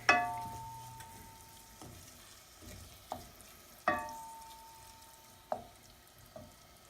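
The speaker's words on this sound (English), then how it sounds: "we'll let that saute for a little bit longer until these onions are clear and everything's mixed together well" Onions and pork sauté in a pan with a soft, low sizzle, punctuated by occasional sharp clinks and taps of a utensil stirring against the cookware.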